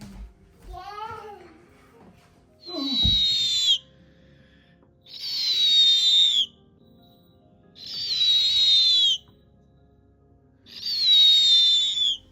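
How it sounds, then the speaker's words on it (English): A young snowy owl about ten weeks old gives four long, harsh hissing screeches at even intervals of about two seconds, loud and close, with brief handling noises and a faint voice-like sound early on. "Now the young snowy owl"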